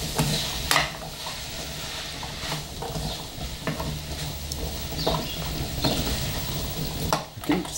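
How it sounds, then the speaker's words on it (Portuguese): Wheat soup with chayote and carrot slices being stirred in a pot, a soft sizzle under repeated scraping and clinking strokes of the spoon at the pan, close and uneven in rhythm, with no voices. "Vou mexer."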